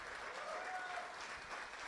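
An audience applauding contestants at a Battle Realm Brawl watch party, steady dense clapping that fills the room for about two seconds, moderately distant and even.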